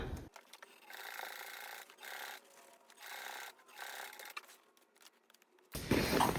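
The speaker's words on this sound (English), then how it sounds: "now we're just gonna stitch along the opening, back stitch in the beginning and the end at 1/8 of an inch away" A sewing machine runs in short bursts, stitching along the opening of a fabric popcorn bag with a back stitch at each end, its steady mechanical whir close and alone before a louder handling sound at the end.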